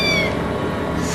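A cat meows once, a close, drawn-out tonal cry that trails off into a dense low background murmur, with no talking.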